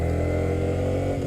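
A Yamaha R15M sport motorcycle ridden at slow speed on ordinary city streets gives a steady, even engine drone with a smooth mid-range hum and no sharp revving.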